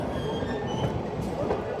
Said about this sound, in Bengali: আমাদের ট্রেনটি ছুটে চলছে বর্তমানে আমরা এখন টিটিপাড়া রেলগেট অতিক্রম করছি